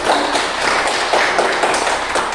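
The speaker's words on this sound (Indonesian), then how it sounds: "tepuk tangan dulu untuk ibu" A classroom of children clapping for their teacher, a loud, dense patter of many small hands clapping together, close and continuous for a couple of seconds without talk.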